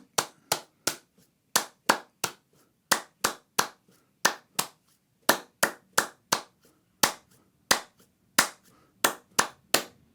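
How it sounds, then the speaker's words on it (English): Bare hands clap out a syncopated bass groove rhythm, close and crisp, with sharp claps in an uneven pattern of quick pairs and pauses, about two dozen over ten seconds with nothing else heard. "Okay, I'm now going to clap that."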